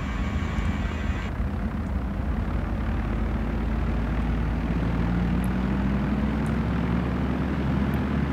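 A propeller airplane in the Flight Sim World video game drones steadily through its takeoff run, a continuous low engine rumble whose pitch rises slowly, with a few faint clicks on top.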